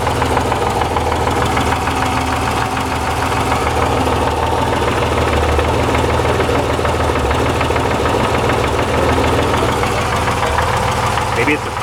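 A car engine idles steadily and loudly throughout with a continuous gravelly rattle and knock, suspected to come from a worn crankshaft thrust bearing, the noise dense and unbroken from start to finish.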